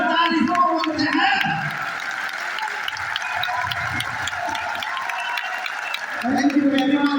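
A crowd at a ceremony claps in a steady, dense wash of applause, with a speaker's voice heard over the clapping at the start and again at the end.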